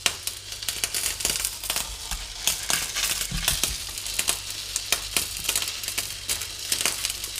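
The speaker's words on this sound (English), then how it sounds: "I'm just cooking, heating up the pan to cook the chicken breast and the veggies in there at once" Chicken breast and vegetables sizzle and crackle in a hot pan, a steady frying hiss broken by repeated sharp scraping and stirring clatters close up, with no talking.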